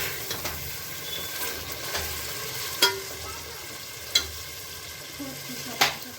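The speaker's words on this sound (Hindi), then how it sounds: "हम थोड़ा सा पानी डालकर इसे अच्छे से चला देंगे" Pulao masala with a little water being stirred and sautéed in a pan, a soft continuous sizzle with occasional sharp scrapes of the spoon against the pan, close and steady with no talking.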